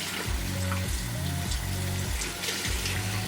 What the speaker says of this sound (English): just continue this process of rubbing it on the soap, rinsing it under the water, squeezing it out